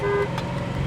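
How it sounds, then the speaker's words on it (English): A 1974 Aston Martin V8 Coupe sounds its car horn in a short, loud tonal blast over the low rumble of the idling engine. The horn stops quickly while the engine keeps running. "Let's try the horn."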